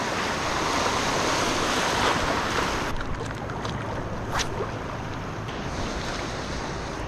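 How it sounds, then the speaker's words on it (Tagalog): Sea waves surge and wash continuously around a fishing boat out after trevally, with wind buffeting nearby, loud and close throughout. "May alon mga kaibigan."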